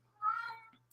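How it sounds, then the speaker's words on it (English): A house cat meows once, faint and in the background of a quiet indoor room with a steady low hum. "That's my cat in the background."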